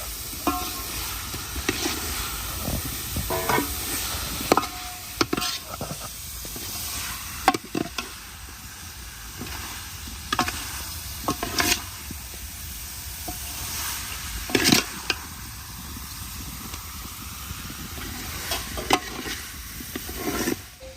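Boiled potatoes are stirred into roasted spices in a pan for a village-style potato dish, with repeated scraping spoon strokes over a steady soft sizzle, close and without speech.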